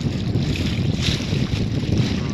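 Fishing boat in November moving slowly along a shore while trolling, a steady low engine and hull rumble mixed with wind buffeting the microphone and water wash, continuous and close.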